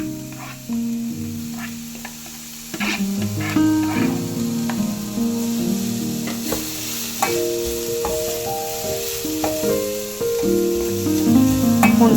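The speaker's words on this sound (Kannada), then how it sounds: "ಕಲರ್ ಚೇಂಜ್ ಆಗೋವರೆಗೂ ಸ್ವಲ್ಪ ಚೆನ್ನಾಗಿ ಫ್ರೈ ಮಾಡ್ಕೊಳ್ಳೋಣ ಎಣ್ಣೆಯಲ್ಲಿ." Onions and cluster beans (chavalikai) fry in oil for an Uttar Karnataka palya, giving a steady sizzle with a few stirring clinks under prominent background music.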